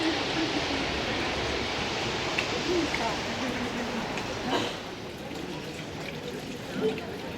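A waterfall on a rainy day in Hallstatt, Austria, seen from ground level, gives a steady broadband rush of falling water that holds constant throughout, with a few faint knocks and brief voices in the background.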